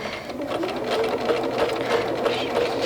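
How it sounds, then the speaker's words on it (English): A sewing machine stitches across quilt layers, running in a steady, continuous mechanical whir at close range throughout, with no pause in the motor's drone. "I'll lift the pressure foot up and I'll stitch across here"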